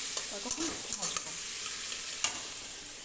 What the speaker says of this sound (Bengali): টমেটো কুচি আর কাঁচা লঙ্কা চেরাগুলো দিয়ে সব একটু ভালো মতো ভেজে একটু নরম হয়ে যাবে ততক্ষণ ভাজবো